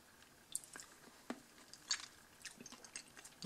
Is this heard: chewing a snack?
yes